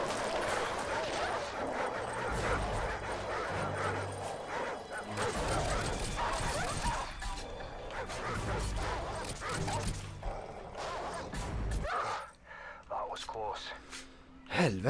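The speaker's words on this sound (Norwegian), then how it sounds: "Det er ikke snille bikkjer!" Dogs in the Call of Duty 4: Modern Warfare campaign bark and yelp in dense, repeated bursts over game noise. A player talks and gasps over the barking, which runs almost throughout.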